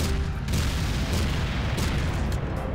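Repeated heavy booms of game cannon fire thud in quick succession over a dense, rumbling background, loud and close.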